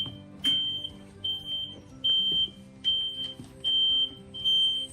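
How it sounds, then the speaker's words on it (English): Ryobi 38-inch battery electric rear-engine riding lawn mower sounding its reverse warning: a high, repeating electronic beep pulsing at a regular rhythm over a faint low hum, fairly close. "So that sound is because it's on reverse"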